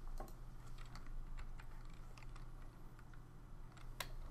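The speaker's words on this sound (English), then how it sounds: "we can just type it in here" Fingers tap out a query on a computer keyboard in quick, faint, irregular clicks over a low electrical hum.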